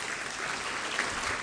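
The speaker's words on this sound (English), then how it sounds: "Shall we clap for ourselves?" A large audience of around 600 people applauding themselves at a national public lecture, a brief dense wash of clapping heard mid-flow without any talk.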